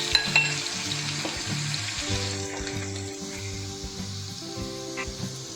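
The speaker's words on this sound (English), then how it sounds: "Add garlic paste and mix with mustard and cumin seeds." Garlic paste sizzles in hot oil with crackling mustard and cumin seeds, a soft steady frying hiss with occasional stirring, heard close but fairly quiet under a repeating low musical background.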